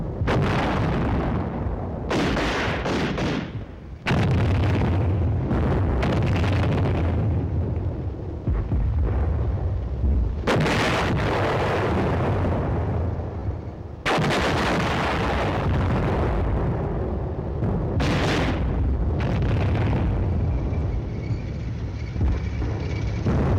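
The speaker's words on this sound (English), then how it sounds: "the enemy forces are alerted to Team Charlie's advance and commence firing defensive fires" Enemy defensive artillery and gunfire during a night tank battle: heavy booms and explosions repeat over a continuous low rumble, with bursts of gunfire in between, loud and sustained, and no voices.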